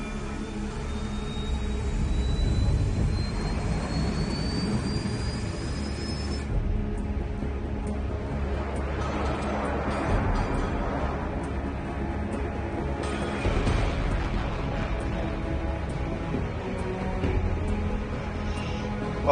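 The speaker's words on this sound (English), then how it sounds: "All this plane could do was take off, accelerate, and fly up" A jet plane takes off and accelerates in the Ace Combat video game, a steady, droning engine roar with a rising whine early on, continuous and moderately loud without any talk.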